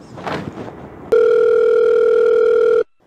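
A single loud, steady electronic phone tone sounds alone for nearly two seconds and then cuts off sharply, following a brief stretch of softer noise, as a call is placed from a mobile phone.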